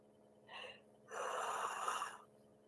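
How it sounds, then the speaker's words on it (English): A tired woman yawns twice: a brief breathy intake, then a longer, louder drawn-out yawn lasting about a second, close to the microphone with a quiet room behind. "she's just yawning"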